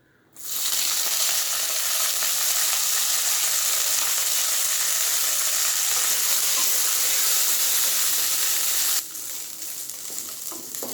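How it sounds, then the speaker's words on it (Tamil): Vallarai keerai (pennywort) leaves, stems removed, hit a hot pan and set off a loud, dense, continuous sizzle that holds steady for several seconds, then drops to a softer hiss. No talking. "1 கப் வல்லாரக்கீரை நான் இப்போ போட்டுக்க போகிறேன்"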